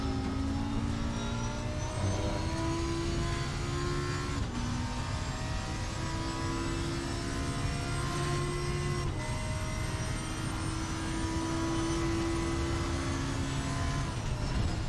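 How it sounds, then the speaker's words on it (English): A V10 race car in the video game Assetto Corsa Competizione drones continuously at high revs, its pitch climbing through the gears with brief shift breaks. Short exhaust pops mark the downshifts, and no one speaks over it. "listening to that hum of that sweet V10. Hearing those exhaust pops when you downshift, amazing."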